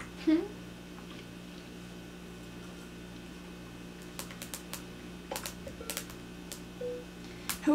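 Quick, light clicks of long fingernails tapping a keyboard come in scattered bursts over a steady fan hum, with someone talking in between during a game of Among Us.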